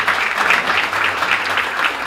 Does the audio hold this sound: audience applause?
yes